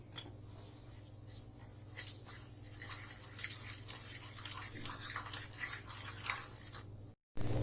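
Strawberry icing with strawberry essence being whisked for donuts, a steady close scraping and clicking of a utensil against the bowl running for several seconds, with a brief drop to silence near the end.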